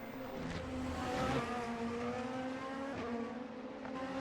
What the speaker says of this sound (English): Just watching the cars go by